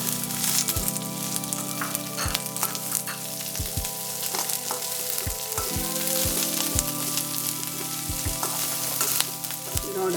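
Finely chopped onion frying in hot oil with browned coconut pieces, a steady close sizzle broken by repeated low knocks and scrapes of a spoon against the pan.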